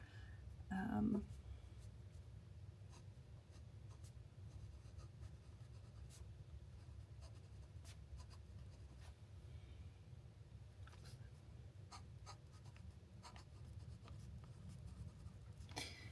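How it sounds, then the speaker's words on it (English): A Pilot Custom 823 fountain pen writes across a notebook page, its nib giving faint, close, soft scratching strokes in an otherwise quiet room. "Today I am just using my favourite fountain pen at the moment, which is the Pilot Custom 823."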